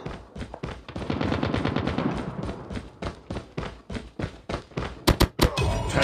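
Rapid automatic bursts from a sentry gun in Call of Duty Mobile, fired in close, loud volleys that stop and restart, ending in a few sharp, bright shots.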